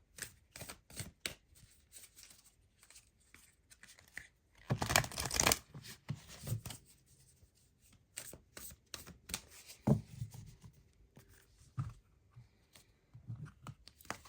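Oracle cards from a Star Codes Astro Oracle deck being shuffled and drawn, with repeated soft riffling and flicking taps, close and fairly quiet, including a denser burst of shuffling midway and scattered card snaps throughout.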